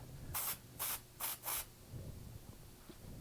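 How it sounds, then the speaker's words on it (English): A small aerosol smoke can sprays four quick hissing bursts in a row, fairly close and loud, with short pauses between them and quiet room tone after. "little aerosol smoke"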